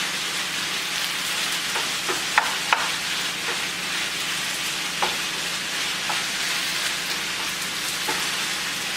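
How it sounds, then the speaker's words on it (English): Sausage browning in a pan gives a loud, steady sizzle and crackle with occasional sharper pops and utensil taps, close by and with no talking. "And we're just browning the sausage."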